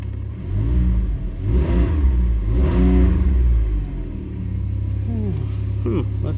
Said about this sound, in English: She runs. Started easy. Kind of got a vibration going here.